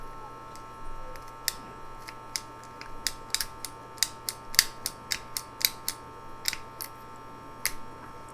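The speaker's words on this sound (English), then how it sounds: "let's try the ratcheting pruner and see how it works" A ratcheting pruner works through a branch with a series of sharp, close clicks and snips at an uneven rhythm over a faint steady hum, with no talking.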